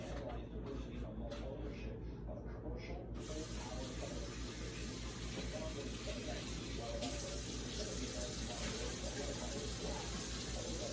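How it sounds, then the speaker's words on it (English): Running tap water sprays steadily over a lobster shell being rinsed out, a close, continuous hiss and splash that grows fuller after the first few seconds. "I got a shell. I'm going to rinse it out."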